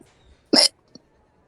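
A single sharp, close hiccup pops out, followed by a faint softer catch a moment later in an otherwise quiet room.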